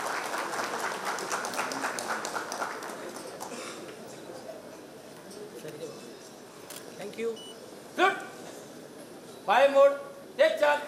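An audience claps at a Mumbai Police retirement ceremony, a moderate round of many hands that fades after a few seconds, followed by someone speaking into a microphone.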